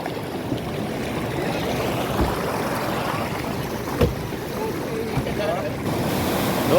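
River water rushes in a loud, continuous wash with a few brief knocks, while a voice speaks now and then over the flow.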